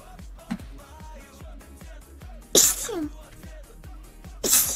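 Loud sneezes from a streamer with allergies, one burst midway and another near the end, each a sharp broadband blast, with quieter chatter and faint background sounds around them.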